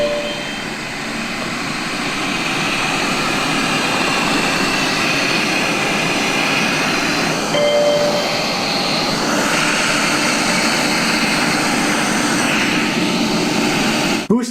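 A Eufy X8 robot vacuum runs in max suction mode, giving a loud, steady whooshing roar like a jet engine that holds unchanged and close for the whole stretch.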